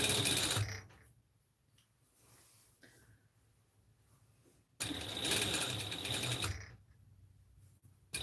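A home sewing machine stitches fabric in two loud mechanical bursts, the first at the very start and the second in the middle, separated by quieter pauses with faint handling noise.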